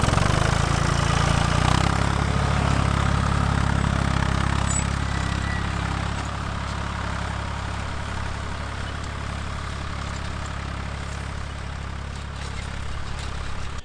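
A farm tractor with an implement hitched on the back runs steadily close by in a field in central Portugal being prepared for corn. Its low diesel drone holds constant and eases slightly quieter partway through.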